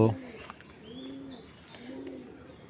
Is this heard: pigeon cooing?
yes